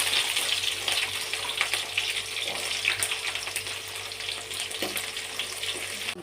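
Ginger paste frying in hot oil with cumin seeds and green chillies in a kadai, giving a dense, continuous hissing sizzle up close, with faint occasional stirring scrapes and no talking.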